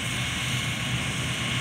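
Claas Lexion 405 combine harvester with a 180 hp engine and 4.5 m header, threshing barley: a steady, loud, broadband engine roar with a constant low hum and airy high rush, unbroken throughout.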